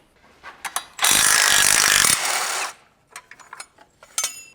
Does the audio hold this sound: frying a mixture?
no